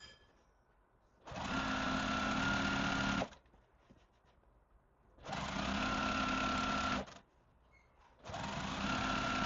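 A home sewing machine stitches a beginner quilt in three steady bursts, each a few seconds long and separated by short quiet pauses, heard close and clear with no talking.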